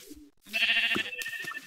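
Sheep bleating in the Minecraft video game: a short wavering game-sound bleat, moderately loud, heard alone after a brief quiet gap with no talk over it.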